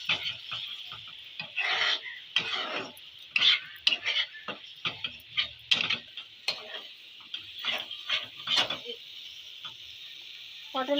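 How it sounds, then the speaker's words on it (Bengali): Pointed gourd (potol) stuffing stirred in a pan for potol dorma, with spices just added; repeated scraping and clattering strokes over a steady sizzle, close and moderately loud, no talking. "এবার একবার নেড়ে দেবো।"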